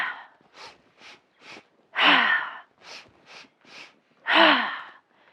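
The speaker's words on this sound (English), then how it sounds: "So it's a sniff." Sharp sniffing inhales and forceful breaths from a breathing exercise in a yoga-style session, repeated in a quick series of short bursts with two louder, longer gasping breaths, close and clear with no talking.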